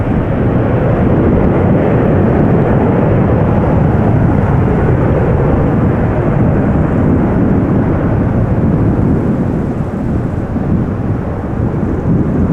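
Loud, continuous jet roar of a 16-year-old Airbus A330 airliner at Amsterdam Schiphol Airport, a broad, steady wash of engine noise with wind buffeting that holds at full strength throughout.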